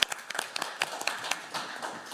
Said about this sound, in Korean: 우리 서복경 교수님을 힘찬 박수로 환영해 주십시오.